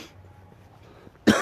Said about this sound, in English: I've still got this cough with me as well.